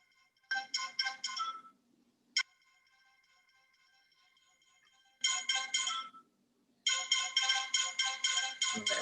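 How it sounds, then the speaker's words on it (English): Mobile phone ringtone going off during a meeting: bursts of bright, chiming electronic notes ring out, pause, then resume louder, with no talk. "Whoever's phone's going off, you could turn that off."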